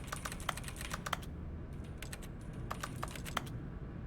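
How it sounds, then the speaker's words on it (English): Keyboard typing heard from a bucket in The Stanley Parable: clustered bursts of clacking keystrokes separated by brief pauses, close and clear over a low background hum. "Why does the bucket sound like a keyboard?"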